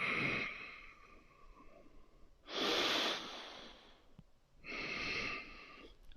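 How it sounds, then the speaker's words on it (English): Three deep, slow breaths during a standing yoga pose, each a long airy rush of air. They are close and distinct, with short quiet gaps between them and no talking. "Deep, deep, deep breathing."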